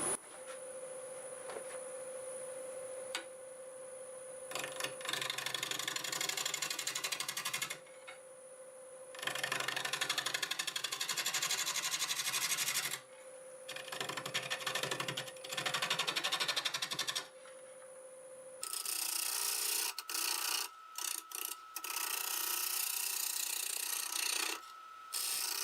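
A wood lathe turns a bowl from a board while a 5/8 bowl gouge cuts at about 750 RPM, giving a steady rasping, scraping hiss that comes in several long passes with short pauses, loud and close, with no talking.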